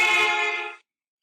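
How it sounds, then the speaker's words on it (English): A car horn blares as the car passes someone standing in the road: one loud, sustained harmonic honk for under a second, then cut off to silence. "The horn to you might sound something like this."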